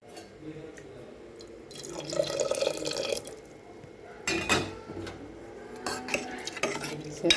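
Utensils scrape and clink in a pot as a bottle gourd mixture is stirred, with a few louder knocks and clatters near the end.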